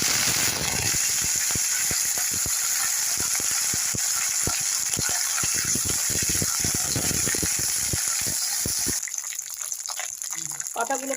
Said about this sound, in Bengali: পাতাগুলোকে একটু ভালো মতন ভেজে নিতে হবে।